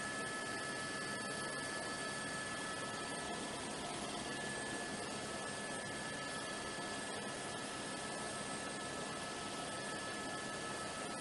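A news helicopter hovers above a police pursuit of a Saturn sedan in Long Beach, California, giving a steady, dense rotor and turbine roar that fills the scene without a break, heard alone with no talking.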